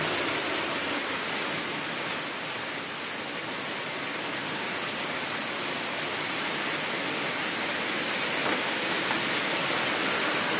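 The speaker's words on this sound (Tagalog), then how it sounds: "lakas ng ulan" Heavy rain pours steadily in the Philippines during a storm with flooding, a dense, unbroken hiss of water that stays loud and even throughout with no voices.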